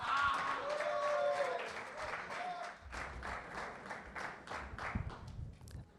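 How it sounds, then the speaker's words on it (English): An audience applauds at a talk on Wrangler Denim's NFT concept, a sustained crowd clapping that starts under a presenter's voice and continues on its own as the speaker arrives. "Give him a round of applause."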